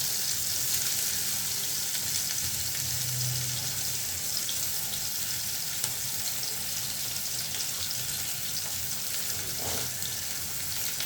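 Sliced onions and green chillies hiss and sputter in hot oil in a pan while a Bengali fish curry is cooked. A continuous, even frying sizzle sits close and loud with no one talking.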